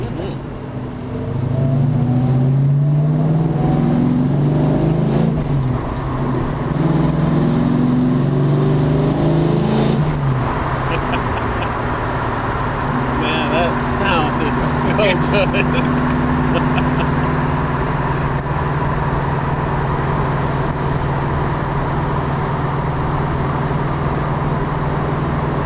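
A 1973 numbers-matching Plymouth Cuda with a 340 cubic-inch engine driving on the street, its low steady engine drone continuous and close throughout, with people talking over it.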